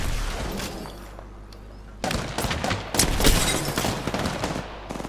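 Gunfire in the video game Apex Legends starts as faint, distant shots. A dense, loud barrage of close rapid fire then breaks in at about two seconds and continues to the end.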